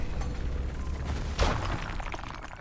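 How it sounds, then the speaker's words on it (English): In RuneScape: Dragonwilds, a rock explosion spell blasts coal with one sudden shattering burst midway, over a steady rumbling game ambience. "Let's get that with rock explosion."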